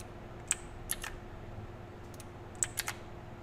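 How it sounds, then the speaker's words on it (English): A clicky computer keyboard gives a handful of crisp, quiet keystrokes in short irregular bursts against a faint background hum. "forgive the clicking, I like clicky keyboards"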